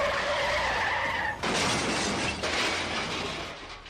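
A bus with no steering control skids and crashes, giving a loud sustained tire screech that breaks into a harsh noisy crash with a shattering burst midway, then trails off.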